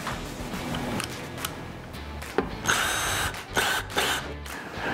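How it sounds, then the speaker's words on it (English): A power drill drives wood screws through holes in a metal e-track rail into a wall, giving short bursts of whirring motor with a rising pitch and a few clicks and knocks between runs, close up. "go back and fill in every fourth or fifth hole with a wood screw"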